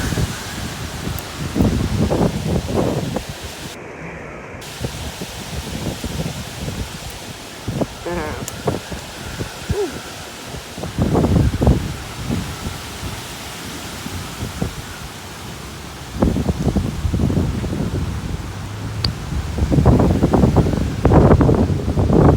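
Strong winds with rainfall outdoors, a constant broadband rush and buffeting of gusts against the microphone that swells and eases over time, with brief voices among the noise.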